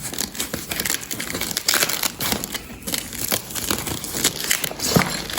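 Crinkling packaging and broken fragments shifting and rattling inside a freshly opened parcel box marked fragile, a continuous busy rustle with scattered sharp clicks close up.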